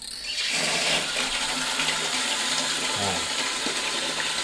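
A campsite toilet flushes with strong water pressure, a loud, continuous gush and swirl of water that starts abruptly and runs steadily to the end, close by.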